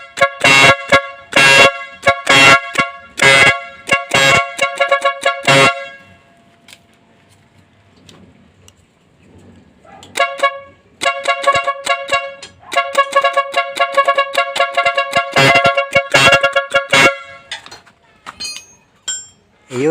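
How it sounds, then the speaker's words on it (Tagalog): A newly installed Nhay+pro air horn on a vehicle blares in loud bursts of repeated short honks, then falls to a quiet stretch, then sounds again in another rapid series of blasts. "sobrang lakas kasi po hangin po yung nagdadala sa busina po natin"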